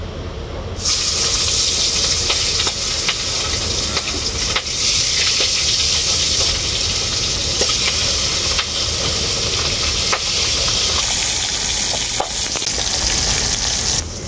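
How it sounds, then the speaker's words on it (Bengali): Pabda fish frying in hot oil in a kadai, a dense, loud and continuous sizzle and crackle that starts abruptly and holds steady to the end, with no voices. "তেলটা খুব ভালোভাবে গরম হয়ে গেছে, এখন আমি মাছগুলো ভেজে নেব।"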